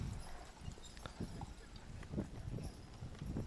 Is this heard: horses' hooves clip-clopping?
yes